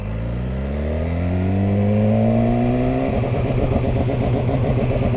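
A 2019 BMW S1000R superbike engine revs up smoothly while held at a standstill with the clutch in, then hits the pit lane speed limiter and stutters in a rapid, loud, pulsing bark.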